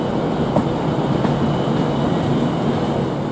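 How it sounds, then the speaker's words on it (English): A Class 390 Pendolino electric train leaves Manchester Piccadilly station, giving a steady, broad rushing rumble that holds even throughout. "a Class 390 Pendolino leaves Manchester Piccadilly"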